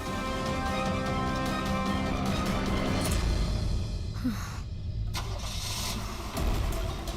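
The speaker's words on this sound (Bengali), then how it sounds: "মনে হচ্ছে খুনি গাড়ি নিয়ে পালিয়ে গেল" A car engine starts and idles, running steadily and close by as the car pulls away in a crime drama scene. There is a brief rush in the middle and no speech.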